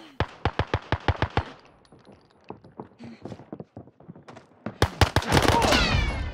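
Gunfire in the game Call of Duty Warzone: a rapid burst of sharp automatic shots, then scattered single cracks, followed by a dense loud volley at the end, with faint voices beneath.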